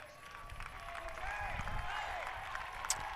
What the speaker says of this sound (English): he's getting a well-deserved applause from the Panthers fans and probably some Mustangs fans who appreciate a good job on the mound